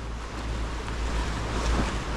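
Turbulent river current churning past a Leopard 50 catamaran in the Bahamas, heard as a steady, loud rushing wash of water mixed with wind noise, continuous throughout with no talking.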